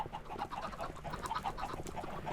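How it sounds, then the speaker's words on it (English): Chickens cluck on a Minecraft chicken farm, a busy, continuous stream of short overlapping clucks from several birds, fairly quiet and steady with no talk over it. "Oh, these are chickens."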